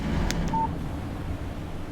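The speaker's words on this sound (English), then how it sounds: "Text message from Barry." A short electronic text message notification chime sounds in the Alan Wake video game, a brief beep with one clear tone, over steady low background noise.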